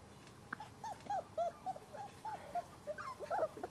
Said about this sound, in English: Come on, puppy puppies!